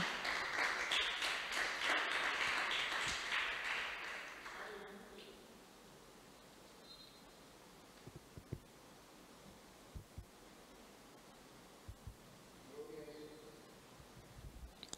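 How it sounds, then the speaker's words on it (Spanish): A church congregation claps during an evening worship service. Loud, dense applause lasts about five seconds, then drops away to near quiet broken by faint rustles and a few soft knocks. "Le da un aplauso al Señor en esta hermosa noche."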